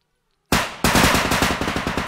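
Automatic machine gun fire in the realistic shooter game Bodycam: a sudden, loud burst of rapid, evenly spaced shots starting after a half-second of silence, continuing as a sustained rattling volley.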